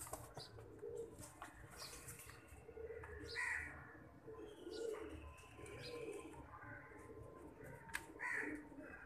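Pigeons cooing close by in short repeated throaty calls with occasional wing flutters, fairly quiet and without talk.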